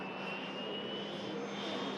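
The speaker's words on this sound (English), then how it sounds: "We'll just capture this prop touching down. First bit of prop action of the live show. Emerald Air ATR." An Emerald Air ATR turboprop airliner rolls on the runway just after touchdown, its steady broadband engine and propeller roar heard at a distance, even and unbroken, with no voices.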